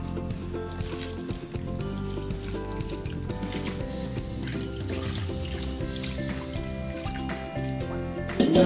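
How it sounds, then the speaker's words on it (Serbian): Water is poured into a pan of beef steaks, a steady rushing, sizzling flow lasting several seconds at moderate loudness with no talk over it. "Sad olijemo vodu."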